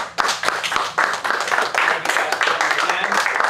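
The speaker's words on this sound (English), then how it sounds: "give yourselves a round of applause" A workshop audience at a grappling strength and conditioning session claps together in a dense, sustained burst of applause lasting a few seconds, close and fairly loud throughout.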